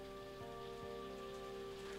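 Loud rain drumming steadily on a surface, a constant dense patter with a low hum running beneath it and no talking.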